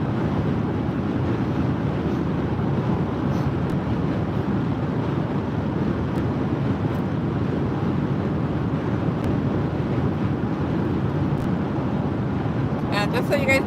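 A car drives steadily, heard from inside the cabin: a continuous low road and engine rumble with some wind noise, close and even throughout, no talk.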